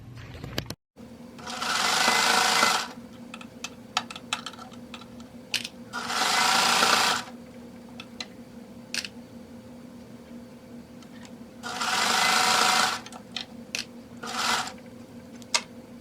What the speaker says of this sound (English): Okay, let's go sew.